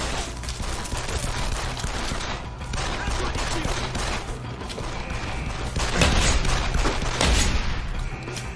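Gunfire fills a firefight in the video game Deus Ex: Human Revolution: rapid, overlapping bursts and volleys crackle continuously, with mechanical clatter and a few louder booming shots.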